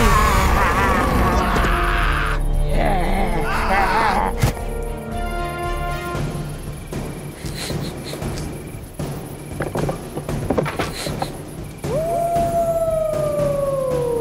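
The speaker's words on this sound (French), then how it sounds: "Le hurlement des loups résonnait dans la nuit tardive" Several wolves howl together at night in a cartoon-style effect, long rising and falling wails layered loudly over a rumbling background, ending with a single drawn-out descending howl.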